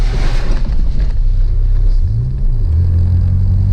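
A Toyota Celica's exhaust gives a loud, continuous low rumble that rises briefly in pitch, as if revving, then settles back to a steady drone, with no voices.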